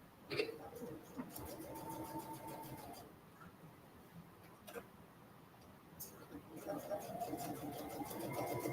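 A domestic sewing machine top-stitching the edge of kids' boardshorts runs in two steady whirring bursts with a pause between, and a person talks in between the bursts.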